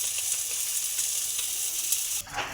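A spice paste fries in oil for an aloo potol chingri curry, making a steady, close hiss and sizzle that dips briefly near the end before rising again, with no talking.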